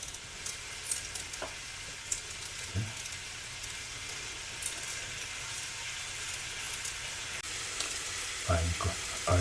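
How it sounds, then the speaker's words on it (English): Ground beef frying on medium heat for a cottage pie, giving a steady close sizzle and crackle throughout, with a few soft stirring scrapes and clinks near the end. "I'm cooking the ground beef. I have it right now on medium heat."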